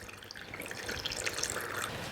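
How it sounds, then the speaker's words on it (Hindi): Hot water pouring into a rubber hot-water bottle: a close, steady trickling splash that runs continuously without a break and without talk. "ये इसमें गर्म पानी मैंने भर लिया है"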